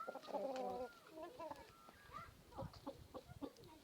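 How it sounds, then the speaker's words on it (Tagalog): Backyard farm chickens, a mixed flock of red, black, Sussex, Marans, gray and Plymouth Rock hens in South Australia, cluck and coo close by in a busy overlapping chorus of short calls. "Ito yung mga manok namin"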